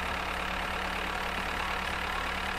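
A tractor engine in the farming video game Farmer's Life runs at a steady, loud drone throughout, a constant rumbling hum with no speech.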